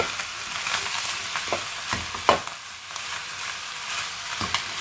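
Chicken fried rice with dark soy sauce being stirred in a pan, a steady close sizzle broken by several sharp scrapes and clacks of the utensil, with no talking.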